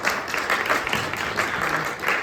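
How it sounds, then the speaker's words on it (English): An audience applauds at a talk, a dense continuous patter of many hands clapping at once, steady and fairly loud throughout with slight surges. "Let's give a round of applause to Steve Marchand."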